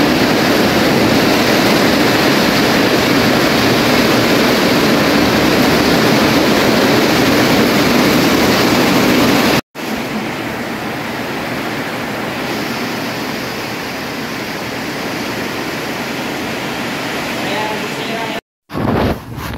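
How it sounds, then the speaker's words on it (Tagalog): Heavy rain pours down loudly and steadily at a house, a dense continuous roar that cuts out briefly twice, with a voice talking in the background. "Sobrang lakas ng ulan o."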